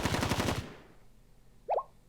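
Rapid automatic gunfire in a video game rattles out loud for about half a second, then cuts to near silence broken by one short chirping tone.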